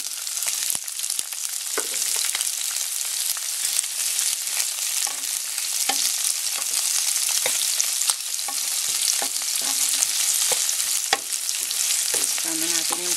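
Onion sautéing in a hot pan for ginisang chayote, with a steady loud sizzle and frying hiss throughout, broken by frequent clicks and scrapes of stirring.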